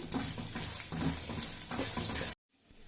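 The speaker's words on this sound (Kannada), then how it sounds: "ಒಂದು ಸ್ಪೂನಷ್ಟು ಗೋಡಂಬಿ ಒಂದು ನಾಲ್ಕು ಗುಂಟೂರು ಮೆಣಸಿನಕಾಯಿ ಒಂದು ಅಷ್ಟು ಬಿಳಿ ಎಳ್ಳು ಚೆನ್ನಾಗಿ ಫ್ರೈ ಮಾಡ್ಕೊಳ್ಳಿ" Cashews, Guntur chillies and white sesame seeds sizzle steadily in a pan with occasional stirring scrapes, a close continuous frying hiss that cuts off abruptly near the end, leaving quiet room tone.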